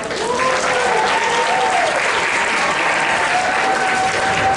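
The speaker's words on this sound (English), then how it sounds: "give another round of applause to our sponsors." A gala conference audience gives a sustained, loud round of applause for the sponsors, with steady dense clapping filling the room and a few faint voices calling out through it.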